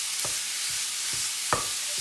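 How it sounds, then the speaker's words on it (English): Minced meat dry frying in a pan while a utensil breaks it up, a constant bright sizzle broken by several sharp scraping strokes, close and without speech. "Just going to break the mince up"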